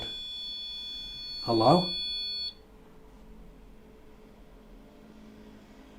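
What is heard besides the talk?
REM pod paranormal detector beeping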